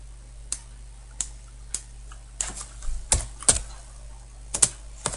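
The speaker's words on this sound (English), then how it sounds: "So we're going to type in 3/16." Typing on a computer keyboard while entering a dimension in CAD software: a dozen or so crisp, close key clicks, spaced at first and then quicker in small bursts, with no speech.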